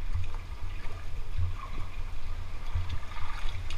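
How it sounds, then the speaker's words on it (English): Spring water pours through a hole inside a river cave, a continuous low rushing and gurgling flow with deep rumbling surges, steady and fairly close. "Look at that amount of water coming through that hole."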